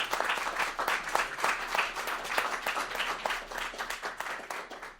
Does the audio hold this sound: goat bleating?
no